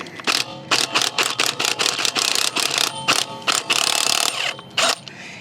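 Rapid bursts of metallic hammering rattle in quick succession, a Hychika impact wrench chattering in short pulses on rusty Range Rover lug nuts with brief gaps between, loud and close.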